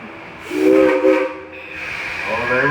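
A loud steam locomotive whistle, Dollywood train No. 70, blasts with a rich, steady harmonic tone, swelling and easing over a continuous background hiss of steam.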